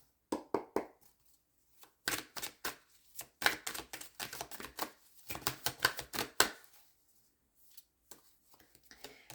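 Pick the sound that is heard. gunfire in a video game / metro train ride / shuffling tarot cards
shuffling tarot cards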